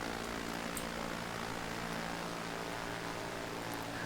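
A Piper Cherokee propeller plane drones steadily in cruise flight within a flight simulator, a continuous even engine hum with a buzzing propeller tone and no break in level.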